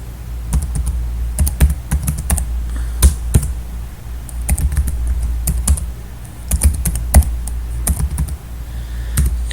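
Fingers tapping quickly on a computer keyboard nearby, producing bursts of crisp key clicks with short pauses between them.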